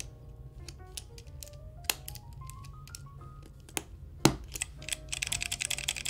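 Keycaps being pressed onto a keyboard's switches, giving a series of light plastic clicks and taps, with one sharper snap near the end, all close and fairly quiet.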